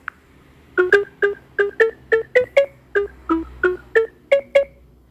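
Scroll sound effect from an AI chat app on a phone, a rapid run of about fifteen short, evenly spaced electronic ticks, crisp and close with no talking.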